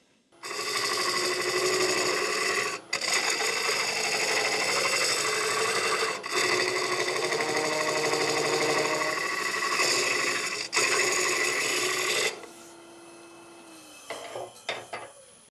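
A wood lathe turns a gnarly hardwood block, giving a loud, continuous grinding and rasping from the tool on the wood in long steady stretches with a few brief breaks, then the machine winds down near the end.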